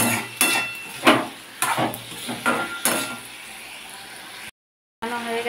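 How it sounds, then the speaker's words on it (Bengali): Spices frying in oil in a pan for a jackfruit kofta curry, with a spoon scraping and clinking against the pan in repeated strokes over a steady sizzle, close and clear, then a brief gap of silence. "দিয়ে ভালো করে মশলা দিয়ে কষিয়ে নেব।"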